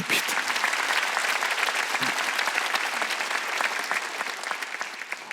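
A church congregation applauding during a Wednesday worship service, steady, full clapping from many hands that carries on throughout, tapering slightly near the end.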